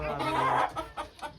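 Chickens clucking at a chicken farm, a loud close cluck followed by several shorter, quieter clucks in an uneven rhythm.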